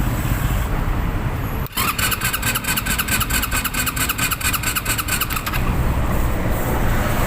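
A motorcycle with an electrical fault, suspected stator or CDI with no spark at the ignition coil, is cranked repeatedly, giving a rapid rhythmic starter whir for several seconds that never catches, then stops.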